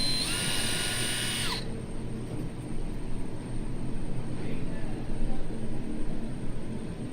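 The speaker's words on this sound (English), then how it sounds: "You want to drill in straight up and down." A steady high whine of a power drill drilling hinge holes in a box at first, then cutting off, leaving a continuous low mechanical rumble throughout.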